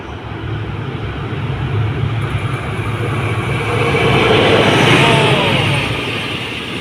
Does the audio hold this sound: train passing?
yes